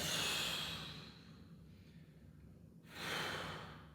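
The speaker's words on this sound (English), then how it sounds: "start to breathe. Emphasize long exhales" Slow breathing with long exhales during ankle prehab movement prep: a close, soft breath fades out over about a second, then a quiet pause, then another breath swells near the end.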